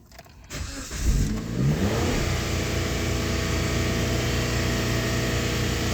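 A 2007 Jeep Compass 2.4 engine with a cylinder 1 misfire starts and revs up, then holds a loud, rough, uneven drone close by, with the misfire stumbling through the steady engine note.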